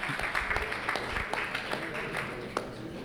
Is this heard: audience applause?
yes